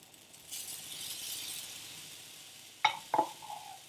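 Buckwheat pancake batter sizzles softly in a hot cast iron skillet with a faint, steady hiss. Near the end come a couple of sharp utensil clinks against the pan.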